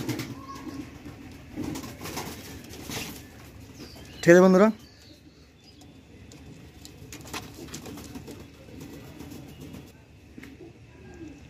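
Mangalgiri pigeons in a loft on a rainy evening give one short, loud burst of cooing partway through. Someone talks nearby before and after it, over a low, rustling background.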